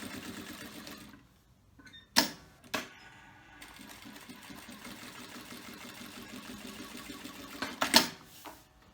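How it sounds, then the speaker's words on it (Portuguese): A sewing machine stitches a bag in short bursts, a fast mechanical rattle that stops and restarts, with a few sharp clacks from handling between runs; quiet and close, no speech. "E continua a sua costura."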